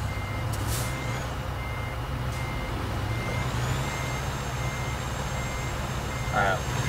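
A van reverses in the American Truck Simulator video game, its backup beeper sounding in steady repeating tones over a constant low engine rumble.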